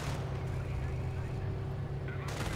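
Artillery fire in the Company of Heroes World War II strategy game, a dense continuous low rumble of shelling and blasts that stays loud and steady throughout, with a slight shift near the end.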